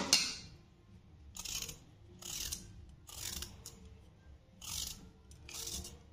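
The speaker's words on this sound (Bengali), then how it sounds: "আমি ততক্ষণ আলু আর গাজরটা ছাড়িয়ে নেব" Potatoes and carrots are peeled by hand in a quiet kitchen, with short repeated scraping strokes in an irregular rhythm, faint and close.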